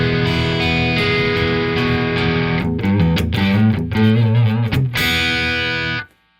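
An effects unit set to its red mode gives a loud, dirty distorted guitar tone, sustained chords and short choppy strums for several seconds, then cuts off abruptly, with no talking.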